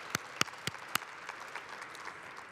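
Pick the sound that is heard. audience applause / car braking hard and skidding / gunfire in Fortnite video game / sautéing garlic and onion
audience applause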